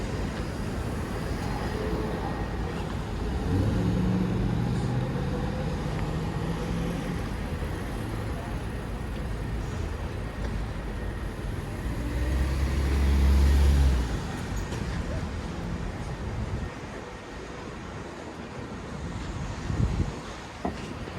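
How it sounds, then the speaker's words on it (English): Steady roar of dense street traffic on Broadway in New York City, vehicles rumbling past close by with a swell of heavier engine noise midway, no voices. "Ooh, a lot of traffic."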